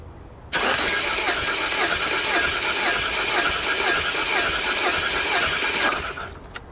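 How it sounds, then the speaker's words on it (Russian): A Peugeot/Citroen engine, the type fitted to the 2012 Peugeot 408, cranks on the starter during a compression test, a steady loud mechanical churn lasting about five seconds that cuts off abruptly. "Замер компрессии двигателя."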